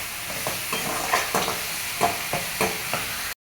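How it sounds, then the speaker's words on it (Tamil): Prawns coated in turmeric, coriander powder, chilli powder and salt sizzle in a pan for a spicy prawn thokku, with a steady frying hiss and repeated scraping stirs of a spatula at a regular rhythm, close and alone. "நல்லா வதக்கிக்கங்க."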